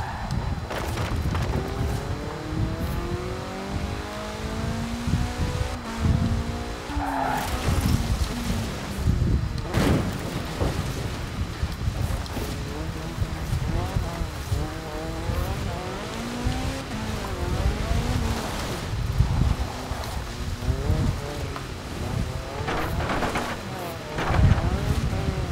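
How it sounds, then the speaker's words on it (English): An S1 class car in Forza Horizon 4 spins out on sand. The engine revs and wails under constant load while the tires squeal and skid in long sweeping tones with loud, busy racing noise throughout. "Spun out, trying to get the power down on the sand."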